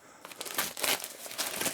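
A knife slits open a heavy parcel, giving continuous crinkling and tearing of packaging close by, with uneven bursts of scraping for nearly two seconds and no talking.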